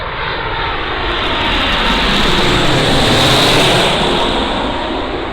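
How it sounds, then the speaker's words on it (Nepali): An airplane flies close to Pokhara airport, its engines a loud, steady broadband roar that swells gradually to a peak and then eases slightly, heard alone with no voices. "Another plane."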